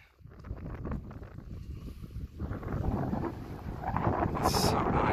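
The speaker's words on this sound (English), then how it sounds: "Sorry for the wind, guys. It's a little breezy." Gusty wind buffets the microphone at the end of a dock by the water, rising from a soft rustle to a stronger, roaring blow in the second half, with no one speaking.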